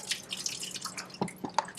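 Dye dripping into a water-filled large cast iron drop-in sink, heard as a few distinct, close plinks and drips spaced irregularly over a faint wet background.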